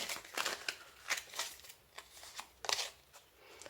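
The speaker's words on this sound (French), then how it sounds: "Je vais vous tirer une dernière petite carte de la Fée Morgane." Tarot cards being shuffled and a card drawn from the deck, a series of close, crisp riffling and flicking bursts with short pauses between them.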